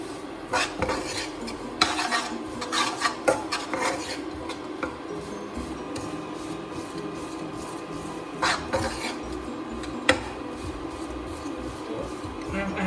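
A utensil scrapes and clatters in a pan while tapioca pearl khichdi is stirred, with irregular knocks and rubbing scrapes over a low cooking hiss, close and fairly loud.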